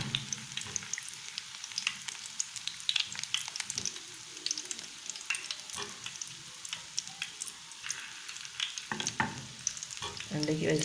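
Fish balls coated in egg fry in hot oil, giving a dense, steady sizzle with constant crackles and pops, close and even throughout, with no voices.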